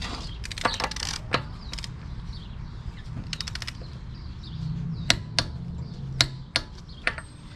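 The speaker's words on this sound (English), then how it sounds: "We got a torque wrench. We're gonna torque it to 134 pound-feet of torque." Torque wrench tightening a front wheel on an 8th-gen Honda Civic: rapid ratcheting clicks in short bursts, then several sharp metallic clicks and creaks spaced apart, close up with no talk.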